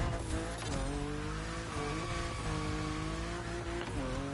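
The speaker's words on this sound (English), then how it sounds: "Yeah, this car drifts very nicely." A lightweight car drifting in The Crew Motorfest, engine droning steadily with tires squealing in long wavering tones for the whole stretch, loud and close with no talking.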